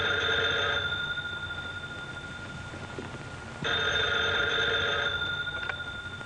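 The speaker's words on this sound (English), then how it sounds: "Miss Lane can get the phone." An old telephone bell rings in two long bursts separated by a short pause, fairly faint against a quiet room.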